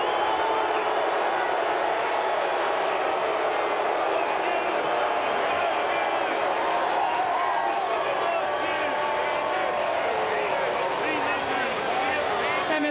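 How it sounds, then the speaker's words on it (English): A dense, steady roar from a large crowd in the grandstands at Bristol's half-mile NASCAR track after a night race, heard at a distance with continuous speech over it. "You hear the crowd."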